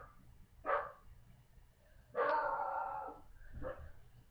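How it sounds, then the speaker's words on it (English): A dog barks in three separate bursts, each short and sharp with a pause between them, heard fairly close over faint background noise. "My dog is being annoying."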